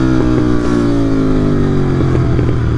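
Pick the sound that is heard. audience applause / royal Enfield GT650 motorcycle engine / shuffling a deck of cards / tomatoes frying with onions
royal Enfield GT650 motorcycle engine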